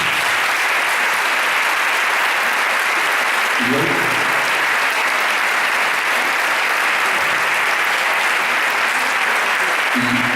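An audience at a public gathering in a small town applauds with sustained, loud, dense clapping that fills the whole stretch, with a few brief voices rising through it.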